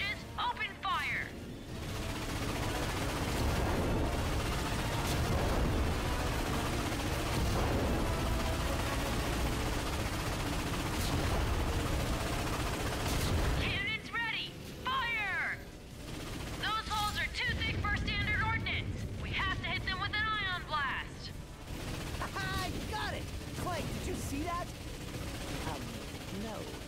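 Ratchet & Clank battle against warships, with steady bursts of gunfire and heavy cannon blasts rumbling continuously, while voices talk over the combat and electronic chirps flutter through the din.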